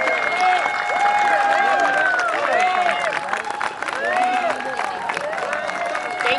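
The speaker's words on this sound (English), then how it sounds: "Another big applause for Takunda" Continuous applause from an audience at a student essay award event, sustained at steady volume with dense clapping and some crowd noise mixed in.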